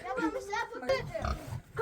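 A voice imitates a pig with a quick run of grunts and oinks, close and fairly loud.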